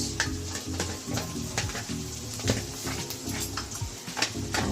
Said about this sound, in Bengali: এবারে হলুদ দিচ্ছি 4 চামচের 1 চামচ